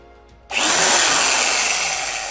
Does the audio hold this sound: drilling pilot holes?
yes